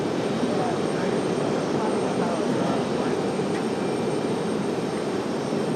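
A jet airliner taking off from runway 23 right, a steady broad roar of engines heard at a distance, constant and unchanging throughout.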